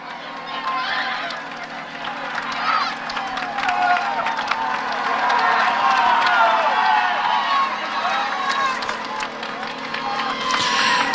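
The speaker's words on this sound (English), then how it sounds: "Amazing crowds here for the leading group of riders." Dense roadside crowd at a Tour de France 2016 stage 12 climb, cheering and clapping continuously as the leading group of riders passes, a broad steady roar of voices with swells of applause.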